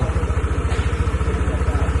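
A Honda PCX 150 scooter engine idling at about 1,600–1,700 RPM, giving a steady, close, low-pitched pulsing throb with an even rhythm throughout.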